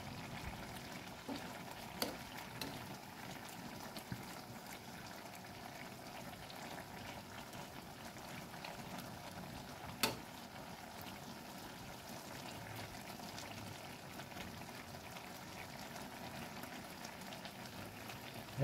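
Bitter gourd cooked in coconut milk simmers quietly in a pot, a low, faint bubbling that runs evenly, with a few small clinks, one sharp tap near the middle and no talk.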